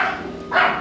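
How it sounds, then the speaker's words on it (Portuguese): A dog on a farm gives a brief bark, moderately close, rising over a steady background hiss. "cachorro começa a latir"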